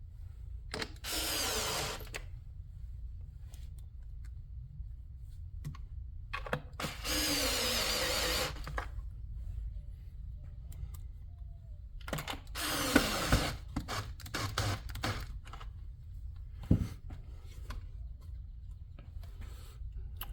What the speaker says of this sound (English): putting all housing screws back together, and remembering that there are 2 smaller screws in the handle